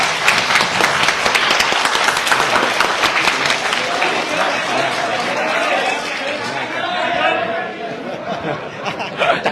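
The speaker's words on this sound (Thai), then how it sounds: "ขอเสียงปรบมือดังๆให้กับคุณพิธาและผู้นริหารพรรคการเมือง" Applause for Pita and the party executives rises from a crowd at a press meeting with an SME federation, mixed with chatter, chuckles and nearby voices.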